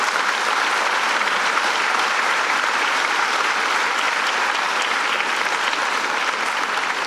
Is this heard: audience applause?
yes